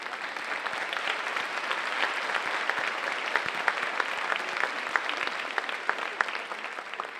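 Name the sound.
applause for the faculty at a commencement ceremony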